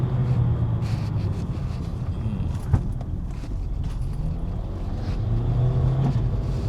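A Skoda Slavia Monte Carlo sedan drives at speed, its engine and road noise forming a steady, loud hum, with a brief knock partway through and the engine note rising again near the end.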